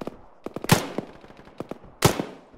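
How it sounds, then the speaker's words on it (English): Gunfire from an AR rifle discharged inside a building in the military shooter Arma, a scatter of sharp cracks with two louder, heavier shots standing out, echoing with no voices. "Pretty sure that was an AR firing from inside."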